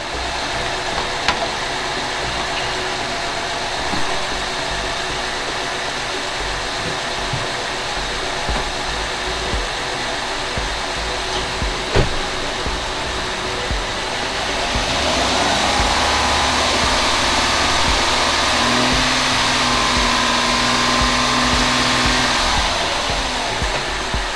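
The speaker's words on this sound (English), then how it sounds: "now they want us to increase the RPM to 2500 for 5 seconds" The engine of a 2013 Acura MDX, held at a raised idle around 2500 RPM as a steady close drone for several seconds, with the pitch lifting slightly partway through.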